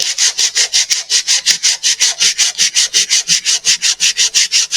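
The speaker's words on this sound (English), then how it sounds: "This is where we want to go in and hand sand" Wood being hand sanded in steady back-and-forth strokes, about five per second, each a close, loud, raspy scratch with brief gaps between, no talking.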